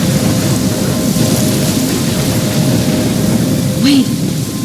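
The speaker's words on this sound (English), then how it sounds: "I'm trapped in a storm." A thunderstorm in the video game Life is Strange, with a loud, steady wash of heavy rain and low rumbling thunder running throughout, and a faint tonal sweep near the end.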